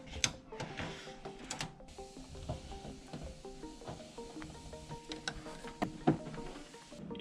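Adhesive backing is peeled off a Philips Hue light strip, producing a close, continuous crackly tearing hiss with small ticks and rustles, steady for several seconds, without speech.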